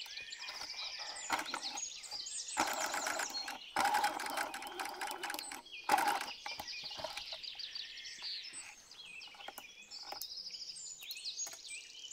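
A sewing machine runs straight stitches through pinned fabric pieces, its rapid mechanical chatter starting and stopping in bursts of varying length, fairly close and moderately quiet.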